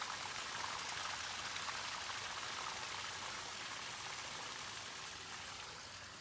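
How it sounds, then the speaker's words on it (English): Water gushes steadily out of a loosened lid on top of a container outdoors, a continuous close, fairly loud pouring hiss that eases off slightly toward the end, with no voices. "I loosen up the lid on the top and out comes the water."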